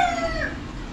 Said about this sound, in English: Despite the occasional rooster and dog barking, it's surprisingly quiet back here.